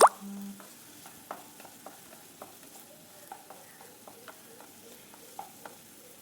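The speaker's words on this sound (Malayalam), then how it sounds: "അങ്ങനെ ഞാൻ വെണ്ടയ്ക്ക വറുത്തെടുക്കാൻ വെച്ചിട്ടുണ്ട്." Chopped okra sizzles in coconut oil in a frying pan, a soft steady crackle broken by light scattered pops and spatula clicks, close and fairly quiet with no talking.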